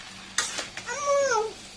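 Noodles are stirred in an oiled pan, with a few close scraping strokes over a soft sizzle and a brief rising voice sound near the end.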